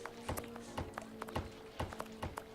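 A horse walks through rundown London streets in a Sherlock Holmes video game, its hooves clopping in a steady, rhythmic pattern of close, crisp hits at moderate loudness.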